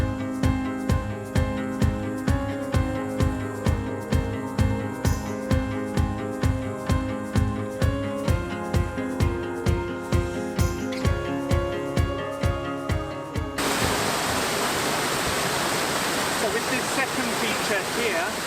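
A broken woodland waterfall rushes as a steady, loud broadband roar for the last few seconds, after a stretch of rhythmic music with a regular beat.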